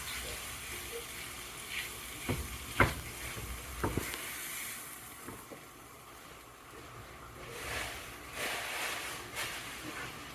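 Chicken pieces sizzle over a lowered flame in a pan with roux for dumpling soup, a soft hissing fry with a few sharp clicks and clatters early on, close and moderately quiet.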